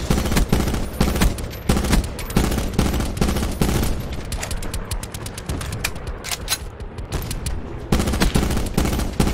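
Close, loud video game gunfire rattles in rapid automatic bursts, with dense volleys at the start and end and slightly sparser shooting in the middle.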